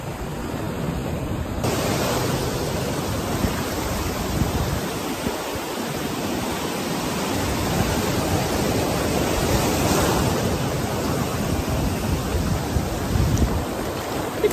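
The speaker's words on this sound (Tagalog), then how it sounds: "Ang laki ng mga alon" Big ocean waves driven by strong wind on the Bicol coast make a loud, continuous roar of surf and gusting air, swelling and easing without a break and with no speech.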